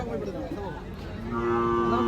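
Cattle moo at a country cow market near a temple, with a long low call building toward the end over a busy outdoor background.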